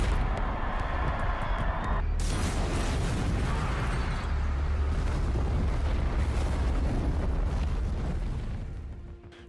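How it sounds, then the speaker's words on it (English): A movie explosion from The Dark Knight Rises as a detonator sets off explosive-laced concrete and destroys a football field: a sustained, loud roaring blast with rumbling debris that runs almost ten seconds before fading at the end. "Bane triggers a detonator, destroying a football field"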